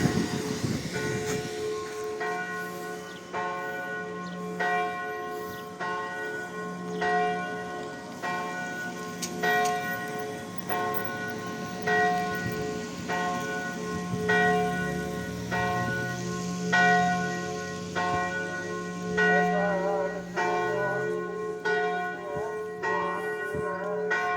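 Church bells ring in Truskavets, a continuous peal of repeated strikes in a steady rhythm, loud and sustained over a low background hum from the street.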